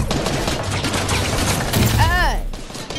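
Rapid bursts of gunfire in Fortnite, dense overlapping shots filling the whole moment, loud and close, with a whistling effect sweeping through near the end.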